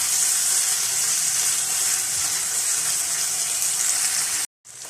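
Qeema filling with green chili sauce cooking in a pan, a loud, even, continuous sizzle and hiss close up, cutting out abruptly for a moment near the end.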